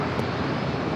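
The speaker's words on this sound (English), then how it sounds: "Followed by Southwest Airlines Flight 794 heading to San Jose, California, 737-700." A Boeing 737-700 airliner at San Diego airport gives a brief, steady broadband jet roar, loud and unbroken, with no voices.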